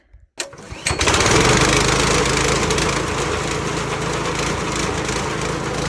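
A small petrol engine drives a grain auger filling a sheep feeder on an Australian sheep farm, starting up then running steadily loud and close with a constant droning hum and no talk.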